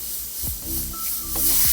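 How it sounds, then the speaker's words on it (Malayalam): A pressure cooker whistles while cooking a mixed vegetable curry with dal and no coconut, giving off a steady, fairly loud hiss of escaping steam that runs through the whole moment with no talking. "വിസിലടിക്കുന്നുണ്ട്"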